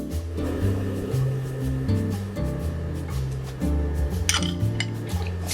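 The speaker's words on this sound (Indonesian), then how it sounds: "Kita aduk sampai seluruh bahan mengental." Salted caramel with margarine and salt being stirred in a pot, a spoon scraping and clinking steadily against the metal in repeated strokes, close and fairly loud with no voices.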